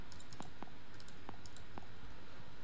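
Quiet keystrokes on a computer keyboard type out a short word, about six soft clicks in an uneven rhythm over a low, steady room hiss, with no talking.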